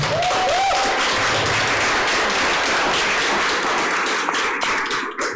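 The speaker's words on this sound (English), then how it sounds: "Let's give our speakers a round of applause." An audience claps steadily for the speakers at a literary society event, a dense, continuous round of applause that stays loud throughout before easing slightly at the end.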